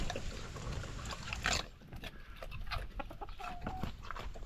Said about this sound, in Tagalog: Manok naman, okay po